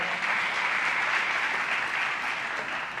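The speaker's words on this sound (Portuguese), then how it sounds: "Pode aplaudir, fique de pé." Church congregation applauding during a service, a thick, even wash of many hands clapping together at steady volume for the whole stretch, with no speech over it.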